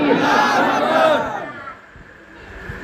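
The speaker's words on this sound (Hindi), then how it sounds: "आइए हजरत का इस्तकबाल नारे तकबीर व रिसालत की सदाओं में बुलंद करें और नारा लगाएं, नारे तकबीर" A crowd at a village Karbala martyrs' commemoration gathering shouts a takbeer chant in unison, a loud collective cry that fades after about a second into quieter murmuring.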